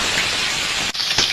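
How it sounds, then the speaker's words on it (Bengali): Fish frying in hot oil in a wok, a steady close broadband sizzle and hiss that runs without a break for just over a second with no voices. "মাছগুলো ভেজে নেবো ভালো করে"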